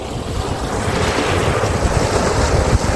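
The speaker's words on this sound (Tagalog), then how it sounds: "Lakas ng agos kasi." Strong river current rushes in a dense, steady roar with buffeting wind noise on the microphone, loud and continuous with no voices.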